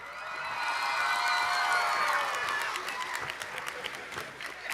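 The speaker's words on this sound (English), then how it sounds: "Give him another round of applause for that." A crowd at a church event claps and cheers, with whoops rising over the applause early on before the clapping carries on more loosely, heard from a distance.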